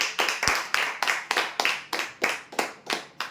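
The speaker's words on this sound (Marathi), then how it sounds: "जोरदार टाळ्या होते यांच्यासाठी" A crowd at a weekly lottery prize draw applauds a winner with steady, rhythmic clapping of about ten even beats that carries close and clear.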